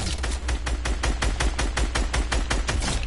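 Rapid assault rifle fire in a video game, a steady stream of evenly spaced shots roughly five per second, loud and close, running continuously with no talk.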